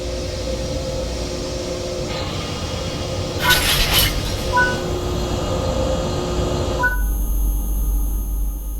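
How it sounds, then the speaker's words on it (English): A locomotive couples to a line of freight wagons in Train Sim World 3, heard as a brief metallic clunk and rumble over a steady rail and engine hum, with faint clicks following as the ambience changes. "Now couple the locomotive to the freight."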